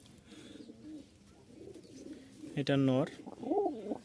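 A Giribaz pigeon gives short, low throaty coos, one loud burst near the end and softer coos around it, close by, while someone talks briefly.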